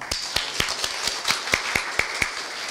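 Scattered clapping from a modest audience at a Korea University event for foreign students greets an arriving guest: a few crisp, fairly regular claps, close and moderately loud, with no voices.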